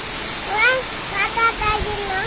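Heavy rain pours steadily beyond a balcony, a broad continuous hiss under a child and an adult talking.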